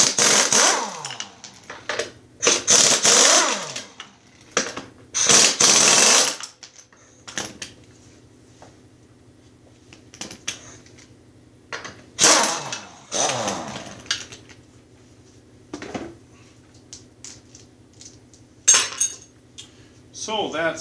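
Ratchet wrench loosening bolts on a Snapper rear-engine rider mower, heard as several loud bursts of rapid mechanical clicking separated by pauses, with a steady low hum running underneath.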